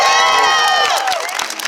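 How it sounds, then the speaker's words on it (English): A crowd at a Cambridge march for Daunte Wright cheers and whoops loudly, high excited voices and shouts swelling close by, with scattered claps fading toward the end. "Y'all give her a round of applause."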